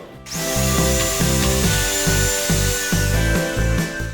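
Belt sanding machine grinding wood pieces for a wine rack, a loud close motor drone with a steady hum and rhythmic rasping surges as the wood is pressed and lifted, no voices.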